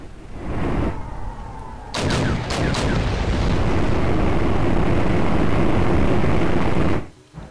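Tanks firing at Tunguska vehicles in a war video game: a few sharp, booming shots land early amid continuous loud battle rumble that persists before dropping away abruptly at the end.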